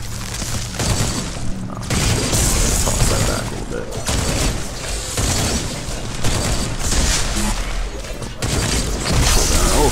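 Sustained, rapid gunfire from a weapon in the video game Paragon, loud and dense for the whole stretch with heavy booming thumps, firing without pause.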